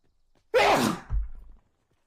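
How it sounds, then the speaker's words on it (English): A single sharp sneeze bursts out from one person at close range, followed by a short breathy exhale, then quiet. "I have to sneeze"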